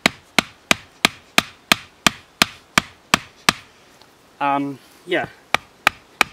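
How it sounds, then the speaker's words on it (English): Sharp, regular wooden knocks of a hatchet hammering wooden stakes into the ground at a New Zealand bush campsite, about a dozen evenly spaced close strikes, briefly interrupted by a spoken word before the blows resume. "I've just been using my hatchet to hammer them in."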